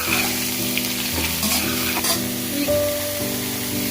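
Two packets of cut mushrooms frying in a pan for mushroom biryani, a dense continuous sizzle with stirring scrapes and tonal metal rubbing from a spatula, close and fairly loud, with no voices.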